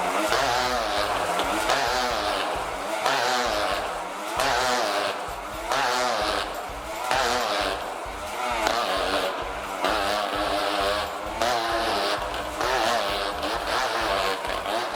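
Motorcycles circle inside a globe of death at a show, their engines droning continuously with a rhythmic rise and fall as they loop, loud and sustained.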